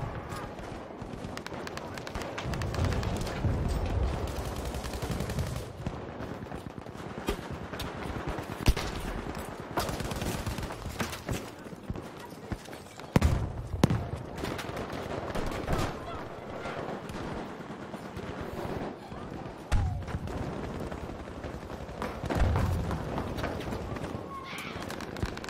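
M1897 shotgun fire in Battlefield V on PC: scattered loud blasts amid ongoing battlefield gunfire and explosions, irregular and close, with voices talking through the fighting.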